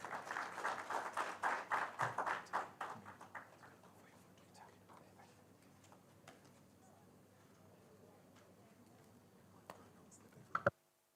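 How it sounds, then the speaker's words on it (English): An audience at a UN agencies conference panel on energy applauds the panelists. Brisk clapping starts loud and close, then fades away over a few seconds into a quiet room with faint scattered noises. "a round of applause to our panelists"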